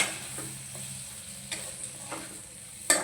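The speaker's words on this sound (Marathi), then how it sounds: "त्याला थोडंसं आपण हलवून घेऊया" A spiced mixture of coriander powder, turmeric, garam masala and salt is stirred in a pan, with a soft sizzle beneath a few scattered scrapes and taps of the spoon, close and fairly quiet.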